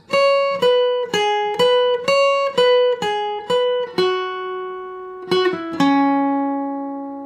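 A clean guitar picks out the chorus melody of a song, single notes plucked one after another, ending on a chord that rings out and slowly fades.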